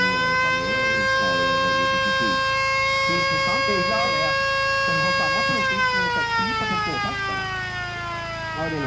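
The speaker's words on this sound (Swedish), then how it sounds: "När teamet är klart till start sätter de igång en flyalarmaktig sirene" An air-raid-style siren sounds at a jet-engined snowmobile event, a loud sustained wailing tone that holds steady then slides downward in pitch, while someone talks over it.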